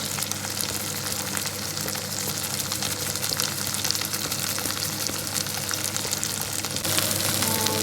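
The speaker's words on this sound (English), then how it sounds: "chicken liver and then I'm going to give it a mix. More oil and a little bit of salt." Chicken liver frying in oil with salt, a dense, loud, continuous crackling sizzle close by that grows slightly louder near the end, with no talking.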